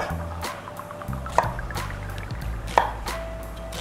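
A knife cutting a bombay onion into big cubes on a board, several crisp chopping taps spaced about a second apart, close and clear over faint background hum.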